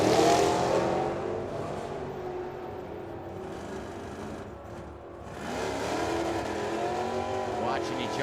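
A Ford and a 1968 Camaro race down the drag strip at Firebird Motorsports Park, their engines roaring and rising in pitch at a distance, with an announcer talking over them.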